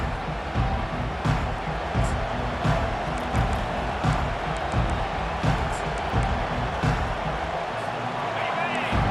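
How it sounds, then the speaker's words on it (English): Stadium crowd in the College Football 25 video game, a dense, steady roar of cheering and noise with rhythmic pulses, under a commentator's play-by-play voice. "This crowd bringing the energy and noise early."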